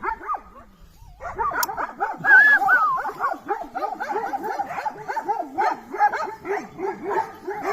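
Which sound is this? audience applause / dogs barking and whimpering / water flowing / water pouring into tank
dogs barking and whimpering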